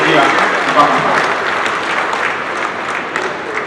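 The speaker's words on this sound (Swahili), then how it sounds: "naomba sote kwa pamoja kumpigia makofi kwa uongozi wake mzuri sana" An audience applauds at a public gathering, a dense, steady round of clapping that carries on throughout while a voice is heard over it.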